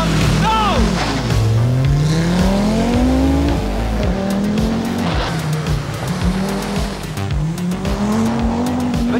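A Pirelli-shod Audi Quattro four-wheel-drive rally car races along a stage, engine roaring and revving up and down through gear changes, loud and close throughout.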